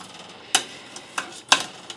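Pot roast seasonings, iodized sea salt and bay leaves, being mixed in a pot, heard as four or five sharp, spaced clacks and scrapes of a utensil against the pot over a quiet background. No voices.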